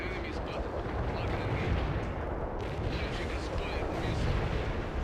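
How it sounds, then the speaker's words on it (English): Incoming artillery fire pounding positions in World in Conflict, a dense, continuous rumble of blasts and booms with voices talking over it. "I have incoming artillery fire on all my positions."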